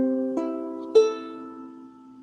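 A freshly tuned ukulele rings out in sustained chords, then two close strums follow each other, the second one brighter. The chord decays slowly afterward, with no talk.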